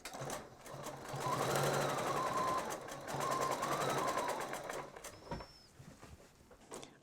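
Sewing machine free-motion quilting a narrow quarter-inch edge around a quilt, a quiet rapid needle patter running in two bursts and then stopping, with soft handling noises after.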